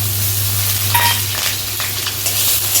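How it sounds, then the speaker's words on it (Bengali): Potatoes dropped into hot mustard oil with five-spice and dried chillies, sizzling loudly and steadily up close, with a few stirring scrapes and no voices. "দেখুন সরষের তেল দিলাম, পাঁচফোড়ন শুকনো লঙ্কা, দেখুন আলুটা দিলাম।"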